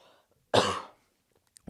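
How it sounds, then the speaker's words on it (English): One short, harsh cough bursts out close by amid near silence, followed by a couple of faint clicks. "I'm going to cough."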